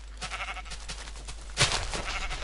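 A sheep in the Minecraft video game gives a single short bleat partway through, heard over a steady, noisy background hum.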